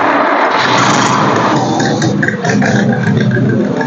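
A 1967 Firebird engine with a possible header pipe exhaust leak roars loudly as it revs up, then eases back into a rough, rumbling idle close by.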